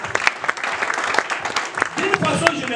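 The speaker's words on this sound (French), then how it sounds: "On va applaudir." Applause and cheering from a church congregation after a blessing, dense clapping filling the room with loud sharp peaks, voices mixed in throughout.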